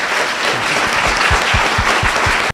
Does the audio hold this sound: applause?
yes